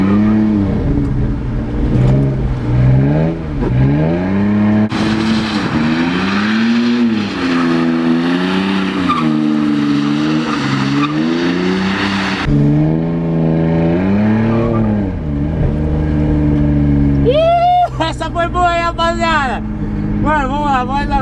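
A pickup truck on 20-inch rims, driven in a drift, revs its engine hard and close, the pitch climbing and falling repeatedly in a loud, continuous roar with a sharp high burst near the end.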